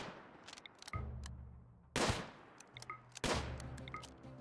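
Colonists shooting guns in the video game RimWorld, with separate short gunshot cracks and a couple of louder bursts, fairly faint and without talk.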